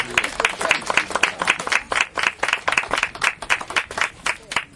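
At a middle school groundbreaking, a small audience gives a school board member another round of applause, with clear individual claps in an uneven rhythm, close and moderately loud.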